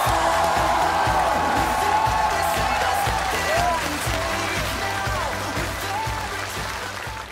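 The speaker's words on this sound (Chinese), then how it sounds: "让我们掌声欢迎超级无聊的贺军翔" An audience on a comedy roast talk show applauds to welcome a guest onto the stage, a dense steady round of clapping from a large crowd that gradually eases off.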